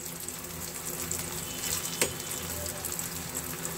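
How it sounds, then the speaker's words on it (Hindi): Paneer nuggets deep-frying in hot oil until golden brown, a steady close bubbling sizzle with one brief clink partway through, no voices. "दोनों साइड से अच्छा गोल्डन ब्राउन होने तक फ्राई कर लेना है। बहुत अच्छे से फ्राई हो रहे हैं"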